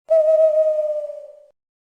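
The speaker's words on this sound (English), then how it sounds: "Owls come out at night to hunt for their meals." A single owl hoot, one clear, sustained tonal note rising sharply and then slowly fading away over about a second and a half, close and alone against silence.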